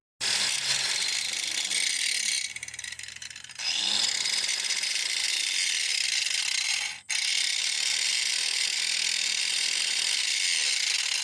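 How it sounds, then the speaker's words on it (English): An angle grinder cuts down the rear shock mounts during a Rancho RS5000X rear shock install. It runs as a loud, steady, harsh whine through most of the stretch, with a brief dip early on and a short cutout near the end. "So I got out the angle grinder. I'm going to do that quick."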